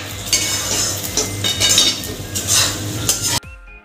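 A spoon stirs mawa gundarpak mixture with cardamom powder, cashews and almonds in a pan, scraping and clinking against the metal in uneven strokes over a faint sizzle, then stops abruptly.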